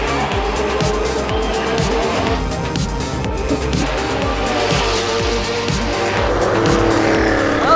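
A 1987 Porsche 962C Group C race car, the Le Mans winner, drives on a racetrack with its engine loud and close throughout, rising and falling with the throttle. Brief tire squeal comes through, along with faint passing traffic.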